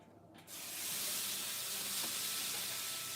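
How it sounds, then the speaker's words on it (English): Takoyaki batter hits a hot pan on medium heat and breaks into a loud, bright sizzle after a short quiet start, then holds as a steady hiss of frying batter with no talking. "You pour the batter, and when it sizzles,"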